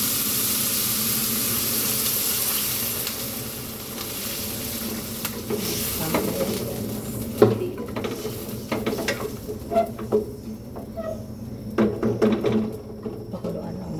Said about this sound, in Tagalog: Gisa natin yung toyo.